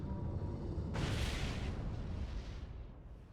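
A sudden loud video game explosion in The Great Ace Attorney Chronicles bursts out, then rolls into a long rumbling roar that slowly fades.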